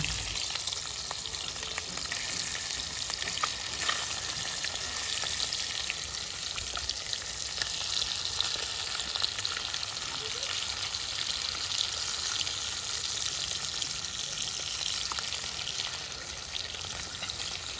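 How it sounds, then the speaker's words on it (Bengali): Fish frying in hot oil after being flipped, for a village-style Bengali tomato katla curry, gives a steady, dense sizzle that runs unbroken and fairly close throughout, with no talking. "একদিকটা ভাজা হয়ে গেলে মাছটাকে উল্টে দিলাম।"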